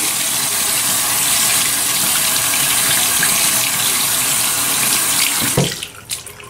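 A running tap gushes loudly and steadily into a sink while a shaving brush is wetted under the stream. The flow is close and continuous, then stops near the end, followed by a few brief splashes and drips.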